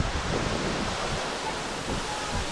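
Ulan-Ulan Falls in Sampao, Almeria, Biliran, a waterfall heard as a steady, dense roar of rushing water that fills the whole brief stretch, loud and close with a little wind buffeting.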